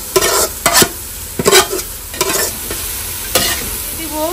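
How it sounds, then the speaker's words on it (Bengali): Carrots fry in ghee for carrot halwa, loud scraping stirs hitting in uneven bursts over a soft background sizzle. "গাজরগুলোকে ভেজে নিব ঘিতে"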